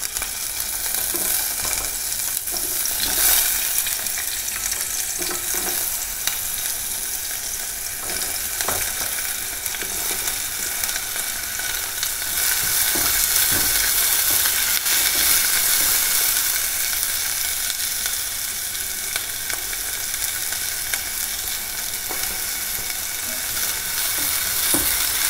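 Bell pepper sautés lightly in a pan with a steady, close hiss of frying oil and occasional faint stirring scrapes, continuous with no talk.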